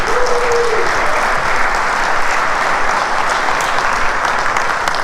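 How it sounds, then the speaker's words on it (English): Strong audience applause for the West Zone at a dealer meet in Aamby Valley City, Mumbai: a loud, sustained roar of clapping from a large crowd that barely varies in level, with a short tone heard at the very start. "I think we want a big clap to our West Zone."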